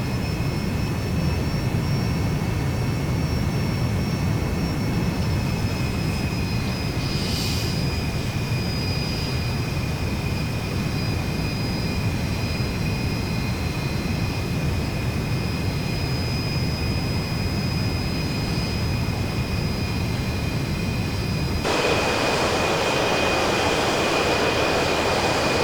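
A loud, steady jet engine roar with a high whine from an F-100 Super Sabre in a flight simulator game, droning on continuously before the tone shifts brighter near the end.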